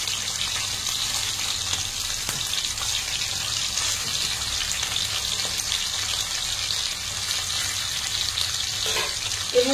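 Hilsa pieces fry in hot oil in a pan for a Bengali mustard hilsa dish, giving a steady, even hiss and crackle with no talk over it.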